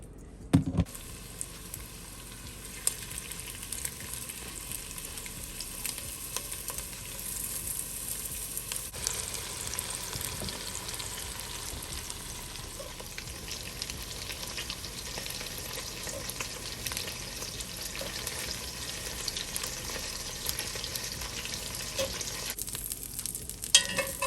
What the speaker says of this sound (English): Now add your vegetables to the pan, your onions, celery, and carrots.